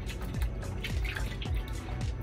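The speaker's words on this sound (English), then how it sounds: "let me wash my hands real quick" Water runs from a sink tap in an acrylic pour painting workspace as hands are washed, a steady wash of flow punctuated by a few regular drips and splashes, close and fairly loud.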